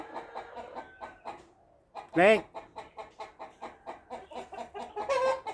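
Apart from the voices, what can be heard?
chickens clucking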